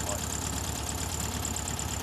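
An old car's 1.2-litre engine with a Solex carburetor idles smoothly at a classic car gathering, giving a soft, even, low-pitched chugging that holds steady and fairly quiet throughout.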